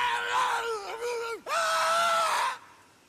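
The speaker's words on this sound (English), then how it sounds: "To just watch freakers burn and listen to their final agonizing screams?" Burning freakers in the Days Gone video game let out agonized screams, two long, loud, wavering wails in close succession with a brief dip between them, then fading out.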